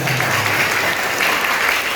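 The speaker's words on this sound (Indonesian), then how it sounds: "Tepuk tangan semuanya." A room of people claps together at a school anti-corruption event, a dense and steady burst of applause that fills the short moment on its own.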